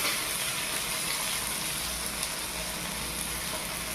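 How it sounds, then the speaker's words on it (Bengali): Toasted pasta tumbling into a hot pan with fried egg and being mixed, a steady broadband sizzle and scraping wash that stays loud and even throughout. "এবারে দিয়ে দেবো সেঁকে রাখা পাস্তা"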